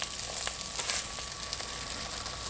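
Fish fillets sizzle steadily in a hot pan on a Fisher & Paykel induction cooktop just after being flipped, a continuous close hiss with no talk.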